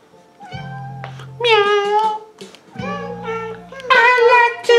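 A person's voice imitates a cat meowing, two drawn-out, rising-and-falling meows in a row, loud and close, with a low steady hum beneath.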